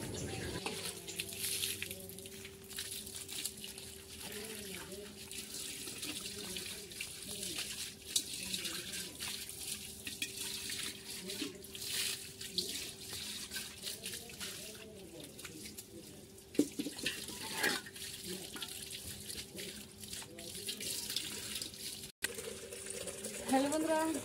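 Water running from a household tap to fill containers in the morning, a steady rushing hiss with a faint hum beneath and occasional clanks, continuing for a long stretch.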